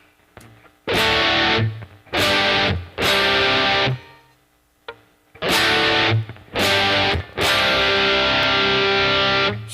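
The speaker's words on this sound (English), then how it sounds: "nice, big, thick, heavy distortion, sounds awesome" Electric guitar with thick, heavy distortion played through a Behringer V-Amp: loud, sustained chords in several bursts with short pauses between them, no talking.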